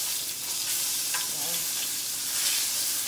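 Salmon frying in a pan while being stirred, giving a steady, close, continuous sizzle with a brief swell near the end and no talking.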